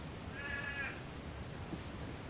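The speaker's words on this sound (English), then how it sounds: "birds still going." A bird gives a single harsh, drawn-out call outdoors in Western Australia, faint and somewhat distant over a steady background hum, followed by a softer short note.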